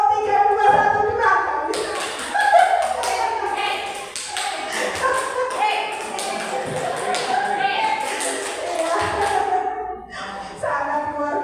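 Rhythmic group hand clapping in a counting game, a fast patterned run of sharp claps repeating for several seconds, with voices chanting before and after.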